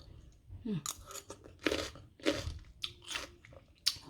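Crunchy sour fruit bitten and chewed close up, with several loud crisp crunches spread unevenly across the clip.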